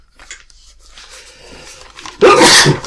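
A single loud, sharp sneeze bursts out near the end after a stretch of quiet, low background sound.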